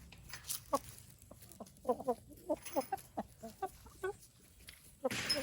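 Several chickens cluck in short, scattered bursts close by, with soft outdoor background noise and a louder rustle near the end.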